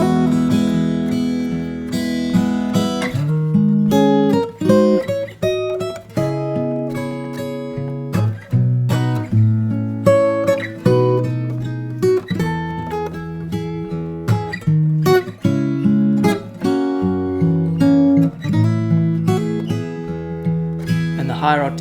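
The higher-octave A section of a song rings out on solo fingerstyle guitar, with melody and bass notes plucked together in a flowing, continuous phrase, close and unaccompanied.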